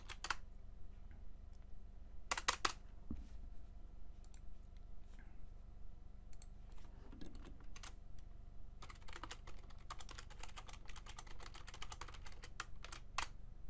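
Typing on a computer keyboard, with quiet scattered keystrokes and short bursts of clicks over a low steady room hum, alone and without talk.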